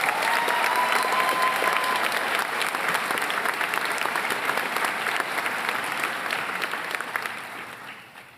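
Sustained, dense applause from a crowd honoring award winners at a police academy graduation ceremony for Fitchburg State University's 7th ROC, loud and steady before tapering off at the end.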